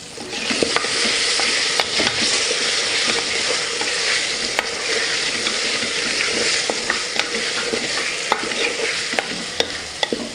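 Chopped vegetables with green chili, onion and tomato fry in hot oil in a pan, a steady loud sizzle running throughout with occasional scrapes and clicks of stirring.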